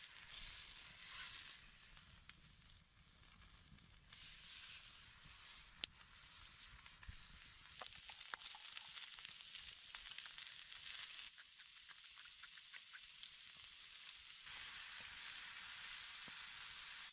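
Pre-cooked food seasoned with salt, pepper and garlic powder sizzling steadily as it warms on a campfire, a quiet continuous crackle and hiss with occasional small pops.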